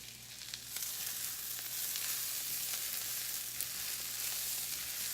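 Vegetables sizzle and fry in a hot pan for a chicken soup, close by. The hissing, crackling sound is steady and continuous, with a few brief pops from stirring, and no voices.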